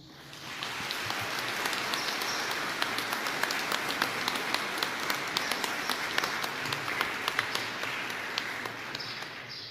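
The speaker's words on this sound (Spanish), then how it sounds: "Denle un aplauso a Cristo" A church congregation claps for Christ during a Sunday Mass, a steady dense applause close by that runs for nearly ten seconds, with a few sharper claps standing out.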